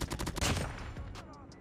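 Rapid bursts of automatic fire from a gold M4 rifle in Call of Duty Mobile crackle loud and close in quick succession, then taper to a few scattered shots.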